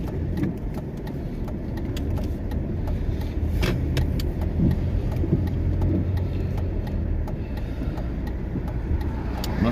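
A car drives at about 20 mph on a road in the Scottish Highlands, its engine a low steady hum heard from inside with faint rattles and clicks, and no voices.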